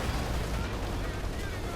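Puma armored car firing in Company of Heroes 2, a dense roar of gunfire and explosions with booming low end, continuous and loud throughout the short burst of battle.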